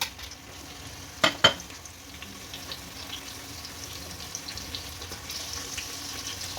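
Sliced onions and green chilies sauté in a pressure cooker for Tamil Nadu-style vegetable biryani, producing a steady gentle sizzle with stirring scrapes and two sharp metallic clinks early on.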